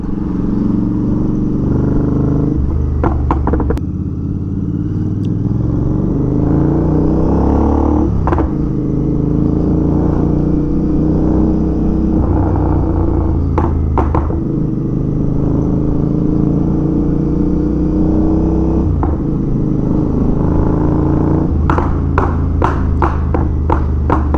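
A Royal Enfield Interceptor 650 fitted with an altered exhaust rumbles loud and close, its engine note rising and falling through revs, with sharp repeated pops and crackles breaking through, including a rapid burst near the end.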